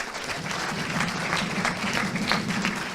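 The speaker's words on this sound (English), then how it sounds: "round of applause, ladies and gentlemen." Audience applause at an esports careers event, where a crowd claps in a steady, dense burst from start to end with a few faint voices mixed in.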